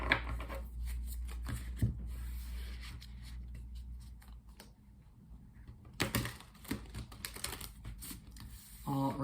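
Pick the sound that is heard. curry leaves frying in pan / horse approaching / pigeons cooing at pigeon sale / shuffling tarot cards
shuffling tarot cards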